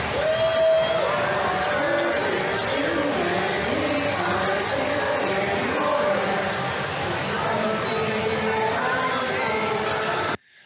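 A crowd in the Muppets Courtyard at Disneyland singing a song together, a dense, loud mass of voices carrying a melody, with cheering and chatter mixed in, sustained throughout before cutting off abruptly.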